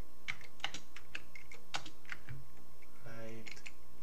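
Computer keyboard keys are tapped in a series of sharp, close clicks while game controls are set up on an Amiga running AmigaOS 3.2, with a short voice murmur near the end.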